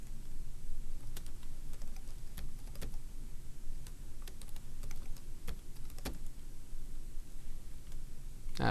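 Quiet, irregular clicks of keys being pressed on a computer keyboard while entering a password, scattered taps across a faint steady background hum.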